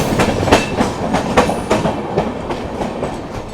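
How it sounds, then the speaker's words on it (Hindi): The Swarna Rekha Express, an Indian express train, runs on the tracks at speed, close and loud, with a rolling roar and a regular clickety-clack of wheels over rail joints. No one speaks. "फिलहाल अपनी ट्रेन अपने मैक्सिमम परमिसिबल स्पीड यानी कि 110 107 पे चल रही है।"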